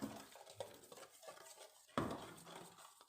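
Utensils scrape and clink against a bowl while a pomegranate-studded sauce for Turkish ezme salad is stirred, a few sharp taps standing out, with a louder knock near the middle, close and fairly quiet.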